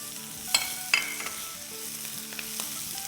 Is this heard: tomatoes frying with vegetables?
yes